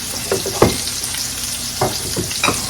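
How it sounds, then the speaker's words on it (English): Soy sauce sizzling in a hot frying pan, a steady loud crackling hiss with a few sharper spits and stirring scrapes, close up and heard alone. "I will put some soy sauce in this pan right here"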